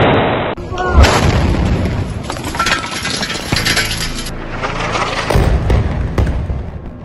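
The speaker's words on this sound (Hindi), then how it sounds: "टारगेट लॉक होता है और तभी होता है एक जोरदार धमाका।" A drone strike hits a Hezbollah depot with a sharp, loud blast, followed by several seconds of heavy rumbling, crackling and debris, with a high electronic whine over the start.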